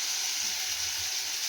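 Katla fish frying in oil gives off a steady, close hiss and sizzle that holds evenly throughout, with no one speaking.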